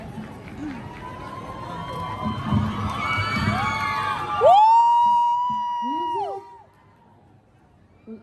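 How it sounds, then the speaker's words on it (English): Crowd noise at a Grade 9 school field demo on Foundation Day: dense cheering, shouting and clapping for about four seconds, then a sudden change as loud music tones take over and the crowd fades. "Round of applause."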